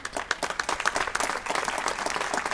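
Audience applause at a street designation ceremony, a close crowd clapping in quick, crisp, irregular bursts that fill the whole stretch.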